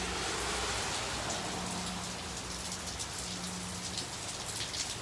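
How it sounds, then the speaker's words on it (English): Steady rain pours down outside a church, a dense even hiss of drops hitting surfaces that continues without a break, close and fairly loud with no voices. "Now let's get inside, out of the beautiful rain that God is blessing us with."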